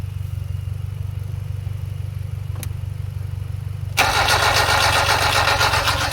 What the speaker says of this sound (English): So Ben's gonna go crank it over.